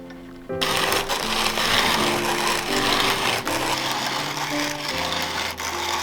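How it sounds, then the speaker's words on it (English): A hand-cranked manual coffee grinder crushing beans in a cozy kitchen, a steady, loud grinding rasp with a rhythmic ratcheting texture that runs continuously after a quiet start. "This grinder takes a lot of elbow grease."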